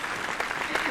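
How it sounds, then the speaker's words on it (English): Studio audience on a 1939 Hollywood old-time radio show breaks into steady, dense applause, a brief wash of clapping heard alone. "give a round of applause to the king for a day, Henry London."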